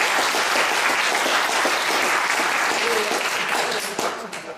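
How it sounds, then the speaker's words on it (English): Full, sustained applause from a conference audience for a speaker, a thick even roar of many hands clapping that holds steady and then begins to thin out with a few separate claps near the end. "a big applause to you"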